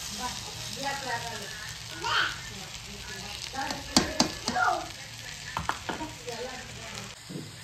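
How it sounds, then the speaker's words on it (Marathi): Sugar being stirred in a pan while making sweet raw-mango gulamba, with soft scraping and light sizzling and clinks of a spoon against the pan under intermittent talk. "तर हे बघा मस्त असं हलवून घ्यायचं."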